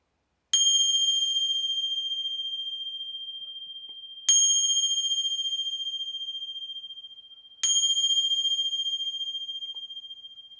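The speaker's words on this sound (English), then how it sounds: "Gonna ring some bells here." Three clear bell strikes about four seconds apart, each a bright ringing tone that sustains and slowly decays until the next hit, with no talking.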